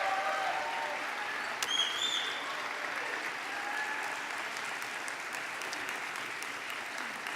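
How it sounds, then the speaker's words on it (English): Graduates at a spring convocation ceremony applauding their families, friends, faculty and staff: a long, even roar of crowd clapping heard from a distance, with a few faint tonal chirps over it early on. "I invite the graduates to applaud your family, friends, faculty, and staff who helped you along this way."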